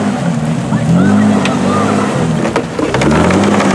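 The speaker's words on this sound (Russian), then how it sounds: "И сейчас поедет Wrangler" A Jeep Wrangler off-road at a 4x4 season-closing event: its engine drones loudly and close, revving up and down in several swelling pulls over a steady rough rumble, with muffled voices in the background.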